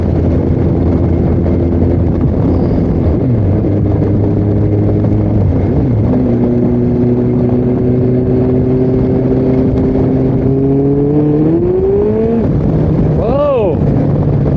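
Kawasaki Concours 14 motorcycle engine under way, a loud steady drone whose pitch climbs through gears with brief dips at shifts and a sudden surge near the end, as if the clutch is slipping; wind rush fills the background and a voice speaks briefly.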